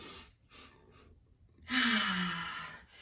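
One deep breath drawn in during an interval training workout: a soft short inhale, then after a pause a louder, longer rushing intake of breath, close to the mic.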